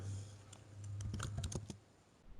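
Keys tapped on a computer keyboard to enter a command line, a quick run of close, light clicks with short pauses between bursts.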